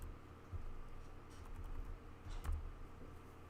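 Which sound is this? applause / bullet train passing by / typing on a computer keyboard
typing on a computer keyboard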